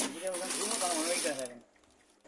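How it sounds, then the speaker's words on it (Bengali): A Chinese lock-stitch sewing machine runs through a rubber mattress, giving a fast rattling whir with rising and falling motor pitch for about a second and a half, then stopping abruptly, followed by near silence and a brief click. "আমাদের এই মেশিনটা কিন্তু চায়না মেশিন, লক সেলাই"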